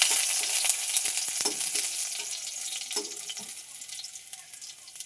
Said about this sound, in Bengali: রসুন আর কাঁচা লঙ্কা দিয়েছি ফোড়নে।